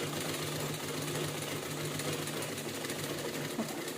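A sewing machine stitches fabric with a steady, continuous mechanical whir, even and unbroken from start to finish.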